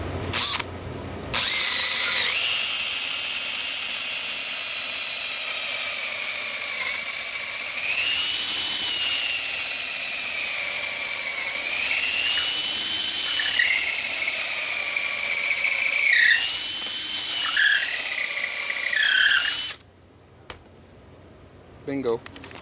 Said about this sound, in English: go with my 1/2" drill and make it deeper